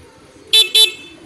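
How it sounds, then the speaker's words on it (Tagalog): An ordinary car horn gives two short, loud honks in quick succession, close by over a faint low hum. "Yan, yung ordinary horn."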